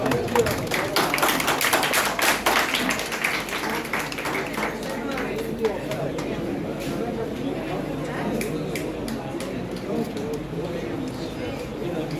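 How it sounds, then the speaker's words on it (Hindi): Scattered hand clapping, a run of sharp taps in the first few seconds that thins out, with a person talking underneath. "तो ताली बजाना बेटा"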